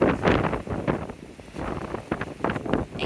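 Gusty wind blows across the microphone outdoors in a garden, producing uneven rumbling buffets that swell and drop in irregular bursts.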